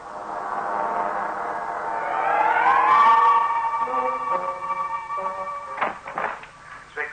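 A siren sound effect in a 1960s radio drama, a wailing tone that rises in pitch and then holds as a steady, fairly loud note before tailing off with some clatter at the end.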